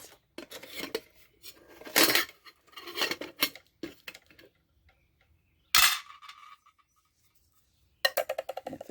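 An MSR folding spork and other metal cutlery clatter and tick inside a nested duffel pot set, in short irregular bursts of sharp metallic clinks separated by brief pauses, close up with no talking.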